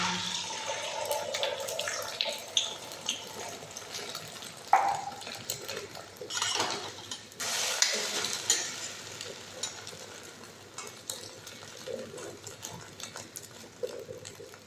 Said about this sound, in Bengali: তেল গরম হয়ে গেছে, আমার ছেলের জন্য ডিম ভাজা করে নিব।